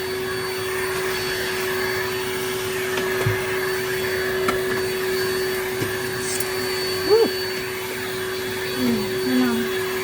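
A vacuum cleaner runs steadily throughout, a constant motor drone with a sustained tone, and a few brief knocks and faint voice-like sounds rise over it near the end.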